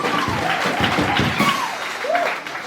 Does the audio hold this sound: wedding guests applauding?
yes